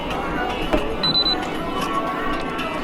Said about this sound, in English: if something gets too close behind you, the bike actually beeps